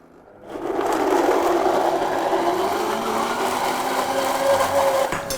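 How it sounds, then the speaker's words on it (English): A blender whirs loudly and steadily, blending a peri peri pepper sauce, starting abruptly after a brief quiet moment and holding a constant whining drone to the end, no speech. "we're gonna blend this just for a minute or 2 until it comes nice and smooth"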